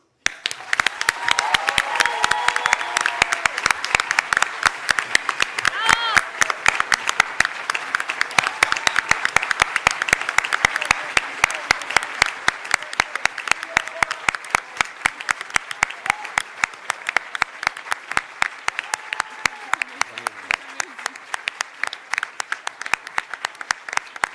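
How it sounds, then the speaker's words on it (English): Graduation audience at a hospitality school ceremony breaking into sustained applause, dense crowd clapping that holds steady and loud for the whole stretch, with a few voices faintly mixed in. "we owe you all a huge round of applause"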